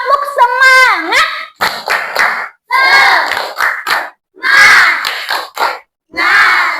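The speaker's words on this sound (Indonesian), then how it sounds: "Tepuk semangat." Children in a classroom lesson shout the 'tepuk semangat' chant in loud, rhythmic bursts with short clapping patterns between them, the group voices close and energetic.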